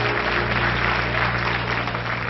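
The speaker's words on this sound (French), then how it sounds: "Sous vos applaudissements." Studio audience applauding steadily as a contestant walks onto the stage of a televised French children's music show, a dense, even wash of clapping with no talk over it.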